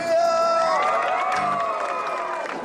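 A live crowd at a comedy juggling show in Cape Coral, Florida lets out a big, sustained cheer with whoops and shouts, loud and close throughout.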